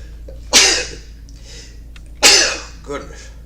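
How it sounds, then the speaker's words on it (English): Two loud, sharp sneezes close to the microphone, well apart, the second followed by a smaller gasp or sniff, with quiet background between them. "Oh no, I gotta sneeze."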